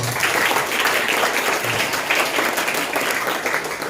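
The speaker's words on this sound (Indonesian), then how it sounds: "kita tepuk tangan untuk." A school audience at SMPN 6 Kupang breaks into sustained applause for a Putri Indonesia NTT 2022 guest, dense, even clapping filling the room without pause.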